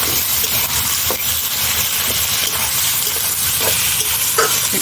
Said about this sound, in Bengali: তেল গরম হয়ে গেছে, এখন আমি পেঁয়াজটাকে ভেজে নেব।